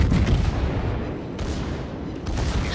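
Battleship main guns firing in a naval warfare video game, a dense rumbling barrage of booms rolling over each other, with a couple of sharper blasts standing out in a continuous heavy roar.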